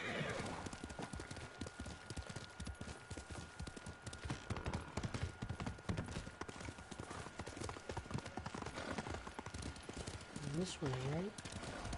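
Horse hooves clip-clop steadily and loudly throughout a ride in the video game Ghost of Tsushima, with a brief whinny near the end while someone talks over the gallop.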